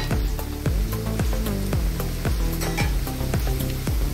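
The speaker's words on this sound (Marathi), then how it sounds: "आता हा कांदा भाजत आलाय, आपण त्यात तिखट घालूया थोडं।" Onions frying in a pan with chilli powder being added, giving a steady loud sizzle with a series of rhythmic scraping stirs and light clinks of a spoon against the pan.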